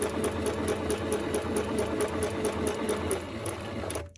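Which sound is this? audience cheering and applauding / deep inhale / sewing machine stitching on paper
sewing machine stitching on paper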